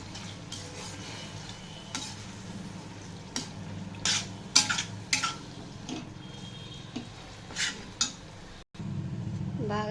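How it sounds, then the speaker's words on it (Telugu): Boiled gongura leaves being stirred into cooked prawns in a pan, a soft bed of sizzling broken by repeated spatula scrapes and clinks against the pan, near and fairly quiet. "ఇప్పుడు ఉడకబెట్టించుకున్న గోంగూర వేసేద్దాం. ఇది బాగా కలిసేటట్టు కలుపుకోవాలి."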